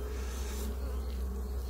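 Honeybees buzzing on the comb of a hive during a waggle dance, a steady close, dense droning hum with no break, no voices.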